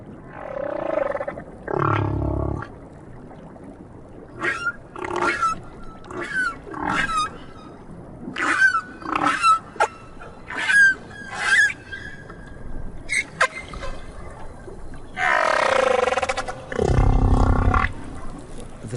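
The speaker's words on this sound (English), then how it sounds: "The song that Petty Point hears in the South Pacific is wondrous." Humpback-style whale song recorded in the South Pacific, a loud sequence of long moaning calls, rising whoops and high squeals separated by short pauses, heard alone and close.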